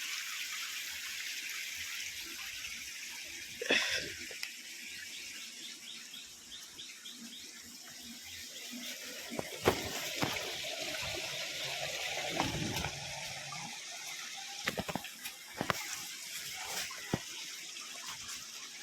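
Water flowing at Brahmani waterfall in Kuldiha sanctuary, a soft, continuous rushing hiss with scattered bird chirps and a few brief splashy knocks rising above it.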